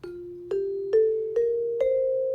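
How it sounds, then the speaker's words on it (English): A felt mallet plays five soft, ringing notes on a mallet percussion instrument, stepping gradually upward in pitch at an even pace, each strike rounded and warm, heard close and alone. "So the felt one's a little more softer, but it has it sounds like this."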